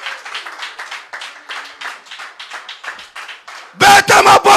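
A church congregation at a Sunday service bursts into loud, rhythmic clapping near the end, after a stretch of someone speaking; the applause comes in several strong pulses welcoming the pastor.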